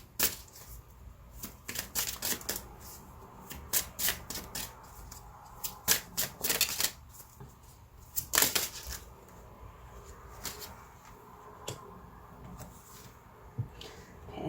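Oracle cards are shuffled by hand in irregular bursts of crisp riffling and slapping, close and fairly loud at times, with quieter pauses between.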